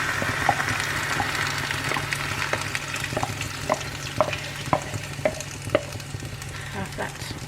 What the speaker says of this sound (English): Start to sizzle.